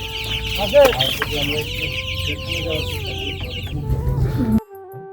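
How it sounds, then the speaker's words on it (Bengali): Tiger chickens on a small poultry farm on a remote river island, with several birds clucking and cackling close by in a busy, overlapping chorus and a voice speaking briefly among them. "এটা হচ্ছে টাইগার মুরগি"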